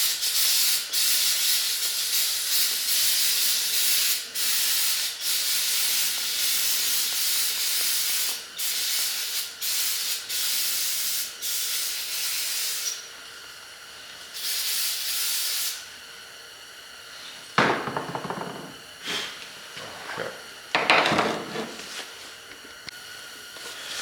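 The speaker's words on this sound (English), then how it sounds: "I'm just gonna take some Carb and choke cleaner and just spray this off" Carb and choke cleaner is sprayed onto carburetor parts during a rebuild of a Scout, producing long, loud, close aerosol hisses in repeated bursts for about fifteen seconds. Quieter handling knocks and brief rubbing follow.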